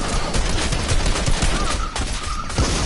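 Rapid bursts of gunfire from a shooting video game, loud and close, a dense fusillade of overlapping shots filling the short stretch with no talk over it.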